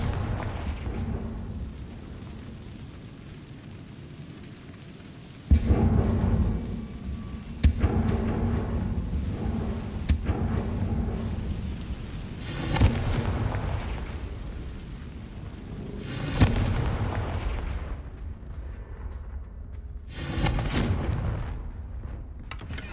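Repeated Confringo blasting-spell explosions in Hogwarts Legacy, a series of sharp booming blasts spaced several seconds apart, each ringing out into a rumbling tail over a continuous low background drone.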